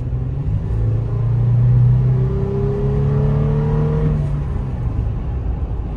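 The 4.0-liter six-cylinder engine of a 2022 Toyota 4Runner SR5 climbs in pitch under acceleration, a steady cabin-heard drone with road rumble beneath.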